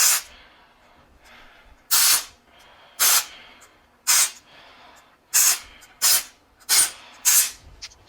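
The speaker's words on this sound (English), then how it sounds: "I'm going to use compressed air" Compressed air blows in eight short, loud hissing bursts to clean the brush roller bearings of a Miele SEB-217/SEB-213 vacuum power head, with quiet pauses between each blast.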